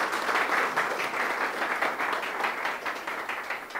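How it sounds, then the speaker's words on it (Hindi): Applause for a newcomer joining a motivational wellness seminar audience in India, a steady, dense wash of many hands clapping close by, sustained at an even level throughout with no voices rising above it. "एक बार ताली सारे के लिए"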